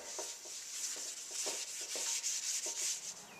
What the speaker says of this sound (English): You're going to use a paper towel and just give it a good coating of Crisco shortening